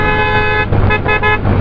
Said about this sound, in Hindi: इन बाज़ारों में हॉर्न देना ज़रूरी है